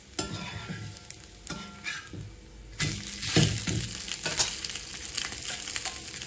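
Bottle gourd adai fries in plenty of oil on a pan, a close, bright crackling sizzle that swells louder after a few spatula taps and stays steady.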